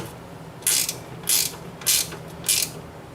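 A ratchet tightens bolts on an old snowblower, giving four evenly spaced bursts of rapid clicking, close and crisp against a quiet background.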